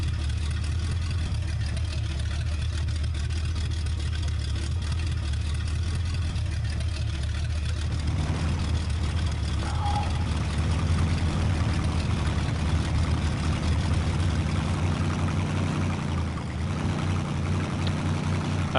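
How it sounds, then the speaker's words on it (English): Truck engine in a driving video game, a steady low drone running continuously and fairly loud, with a shift in tone partway through and no talking. "I love the sound of the engine."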